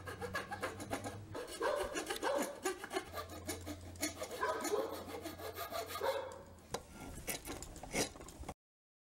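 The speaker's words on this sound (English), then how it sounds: "using different rasps, I slowly started to shape the shoe" A rasp files a small wooden shoe clamped in place, producing repeated rough scraping strokes in a steady back-and-forth rhythm, close and moderately quiet, with no voices.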